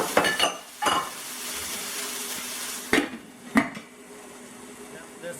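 Tomatoes with spinach and basil cook down in a pan, a soft continuous sizzle and bubble under several sharp utensil knocks against the pan, close by.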